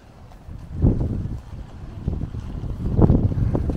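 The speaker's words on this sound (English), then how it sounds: "That's the farmer just driving past." Farm vehicle driving past outside in a stormy Peak District setting, a low rumbling engine swelling and fading twice amid gusting wind buffeting the microphone.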